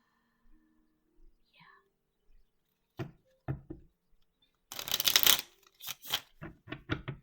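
Tarot cards shuffled and pulled by hand, a few soft taps and slides, then a dense riffling burst followed by several distinct card snaps, quiet and close with faint whispery talk early on.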